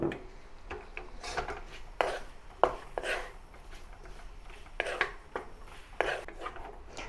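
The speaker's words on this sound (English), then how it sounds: "Once I have mashed the salted egg yolks, combine with the bitter gourd slices." Bitter gourd slices being stir-fried with mashed salted egg yolks, a spatula scraping and knocking against the pan in a loose, irregular rhythm of close, moderately loud strokes, with no voices.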